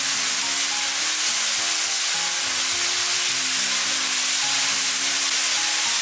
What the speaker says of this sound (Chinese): 下入1勺豆瓣酱，给它煸炒出红油